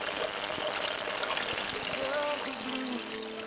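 Water streams steadily from a nozzle into containers at a trail water source, a continuous close gushing pour with shifting pitch as the vessels fill.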